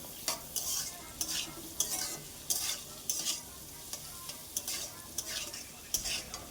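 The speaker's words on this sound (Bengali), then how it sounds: "এইবার আমি ভালোভাবে নাড়াচাড়া করে একটু লাল লাল করে ভেজে নেব।" Potatoes with salt and turmeric fry in oil while being stirred vigorously, a soft sizzle punctuated by regular scraping strokes of the spatula against the pan, close and fairly quiet.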